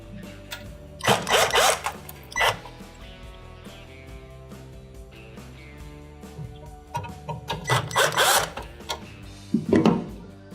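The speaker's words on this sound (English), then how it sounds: "We're going to remove the screws from underneath." A power drill backs screws out from under the face plate of a KitchenAid microwave, with short, loud buzzing bursts of the driver in two clusters. Quieter clicks and handling noises fill the gaps between them.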